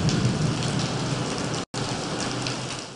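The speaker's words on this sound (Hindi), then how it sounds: "कराची में मूसलाधार बारिश के बाद की सूरत हाल का जायजा लेने के लिए वजीर आला सिंध शहर के दौरे पर निकल पड़े।" Torrential rain pouring down in Karachi, a loud, dense, unbroken hiss of heavy downpour drumming on surfaces, cut off for a split second partway through.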